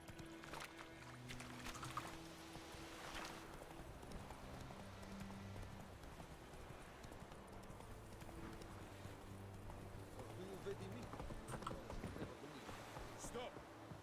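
Horse hooves clip-clopping in The Witcher 3: Wild Hunt, a steady trotting rhythm under game ambience with occasional talk over it.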